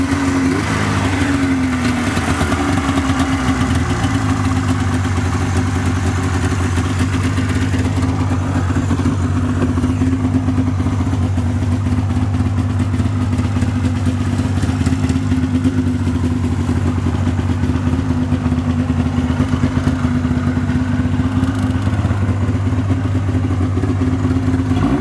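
Close and steady, a 1998 Polaris XCR 440 snowmobile's two-stroke engine idles with a loud, constant rattling burble that settles slightly lower after a few seconds and runs on alone without any voices.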